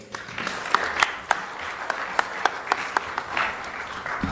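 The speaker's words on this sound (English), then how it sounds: "huge round of applause for Mr. Vijay" An audience at a design week session at Karnavati University in Ahmedabad applauds a speaker, a moderate wash of clapping with several sharper individual claps standing out near the listener.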